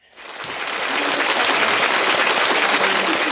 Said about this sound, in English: Are you hitting that applause button?